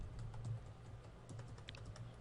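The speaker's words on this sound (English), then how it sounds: "I'm just not typing very well today" Soft, rapid clicking of a computer keyboard as commands are typed at a Cisco router console, quiet and close with irregular key taps.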